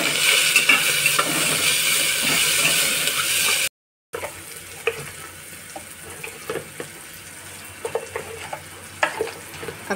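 Onion frying in a pan with tomato, turmeric and coriander added, a continuous close sizzle with scattered scraping and stirring knocks, louder at first then settling into a softer crackle.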